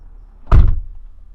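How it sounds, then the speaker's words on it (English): A Tesla Model X door shuts with a single solid, heavy thunk, close and loud, followed by a low hum with no one talking. "the door shut is pretty solid, and as soon as the door shuts, the vehicle turns on"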